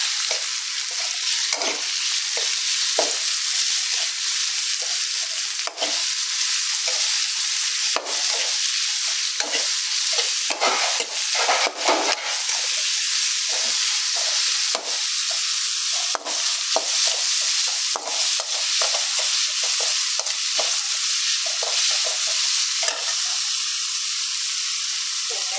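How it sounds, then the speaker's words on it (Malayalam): Onions sizzle and fry steadily in a hot pan while being stirred, with clattering scrapes of a spatula breaking through a continuous close, loud hiss; no voices. "ഇനി നമ്മൾ വലിയ ഉള്ളി കട്ട് ചെയ്ത് ആഡ് ചെയ്തു."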